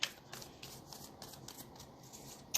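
Deck of tarot cards being shuffled by hand, a close, quiet run of soft riffling and flicking bursts repeating at an irregular rhythm, with sharper card snaps at the start and end.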